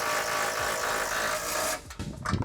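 A power tool whirs steadily and loudly while driving a bolt during a Gen3R supercharger install on a 2011-2017 Mustang GT, then cuts off and sputters in short bursts with no one talking.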